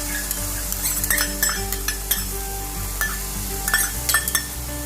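Spiced masala for an egg malai curry is stirred in a sizzling pan, the spoon scraping and clinking against the metal in irregular strokes over a steady frying hiss and a low hum.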